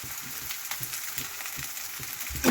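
Onion frying in a pan of oil for a jowar (sorghum) grits khichdi, with a steady close sizzle and crackle throughout and a brief louder spatter near the end.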